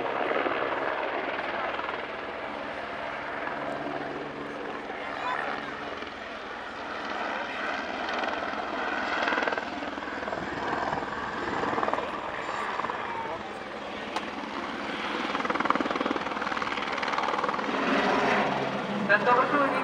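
A Eurocopter AS-350 helicopter drones steadily throughout during a demonstration flight, its rotor chop and engine whine continuous and fairly close, with a voice talking in Czech over it.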